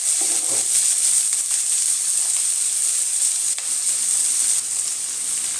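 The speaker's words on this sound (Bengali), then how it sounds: "আবার টমেটোটা দিয়ে একটুখানি ফ্রাই করে দেব।" Chopped tomato and onion fry in a pan for a Bengali katla fish curry with coconut milk, a loud, continuous bright sizzle heard up close, with a few faint stirring scrapes and no talking.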